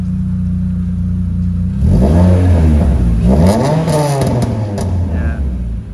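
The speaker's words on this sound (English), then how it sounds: "he can start it up and give it a rev. Definitely sounds a lot better." Renault Clio race car build fitted with a Cobra exhaust system, revving hard from idle in several deep, rising and falling bursts, loud and close, with no talking.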